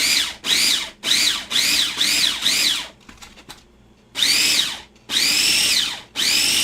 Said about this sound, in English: I have 2 options, chop or grind, and you can't turn it on and leave it on